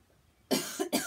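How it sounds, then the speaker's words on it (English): Two sharp coughs in quick succession, close to the microphone, after a short quiet pause. "Luckily this cough isn't contagious over the, through the video."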